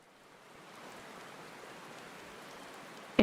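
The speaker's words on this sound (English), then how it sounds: "the rain sounds really good, and like the night ambience, it's crazy." Steady rain with a soft night ambience in the Final Fantasy XIV video game: a dense, even hiss of falling drops that holds at a constant low level, with no voices over it.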